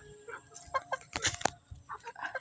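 A round head breed rooster clucks in short, close bursts at a farm, with a few sharper calls and a brief wing-flap-like flurry in the middle, alone without talk.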